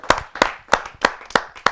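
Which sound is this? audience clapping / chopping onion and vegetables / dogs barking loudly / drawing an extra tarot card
audience clapping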